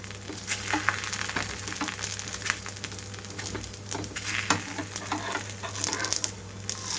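A horse gram dosa sizzles on a hot pan as oil is spread over it with a flat spatula, a steady crackling fry with soft scraping touches and a low hum underneath.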